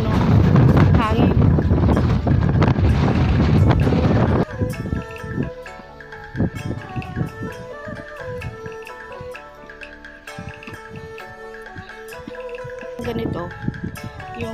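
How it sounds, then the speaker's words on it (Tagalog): Strong wind roars and buffets the microphone at the summit of the Chung Hom Kok to Wilson Trail hike in Hong Kong, loud and continuous for several seconds before dropping away to quieter background music. "yun o, hangin"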